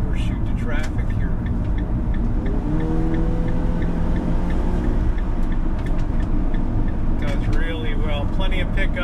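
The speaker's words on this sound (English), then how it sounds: "I'll slow down a little bit and then show you the acceleration here." RV adventure rig accelerating on a road, a loud continuous engine and road rumble with a rising engine tone midway, while a person talks over it.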